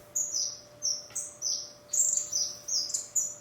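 Twinspot finches nesting in an aviary give a run of bright, high chirps in short repeated bursts, about six calls spaced evenly, close and clear over a faint steady hum.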